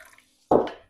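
Rum is poured in a single short splash into beignet dough in a kitchen, a brief liquid gush after a near-silent pause.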